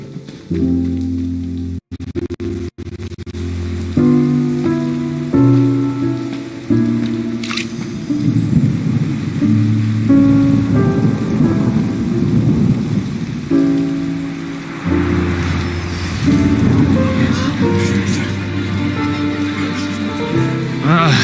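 Steady rain hisses over a gentle, sustained musical score in Genshin Impact, the downpour forming a continuous wash beneath the melody throughout, with only a possible hint of distant thunder.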